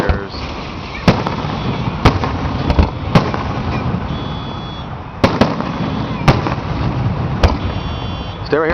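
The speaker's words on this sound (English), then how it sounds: "I love those fireworks." A fireworks show goes off: about nine loud, sharp bangs come at uneven intervals of roughly a second over a rumbling background, with voices faintly audible between them.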